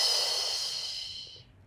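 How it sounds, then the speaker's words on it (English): A single long exhaled breath during a pilates exercise, close and steady, an airy hiss fading out over nearly two seconds. "Exhale."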